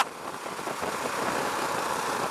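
A Husqvarna Vitpilen 701 motorcycle engine chugs along at about 3,000 RPM in fifth gear, a steady mid-level rumble with wind noise, close and continuous without speech.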